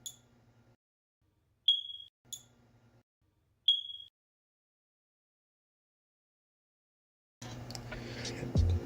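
A smoke detector gives a few short, shrill electronic chirps separated by silence, set against a faint low hum. A louder mechanical clatter follows at the end.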